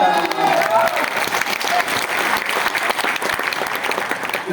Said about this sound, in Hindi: उनकी तालियां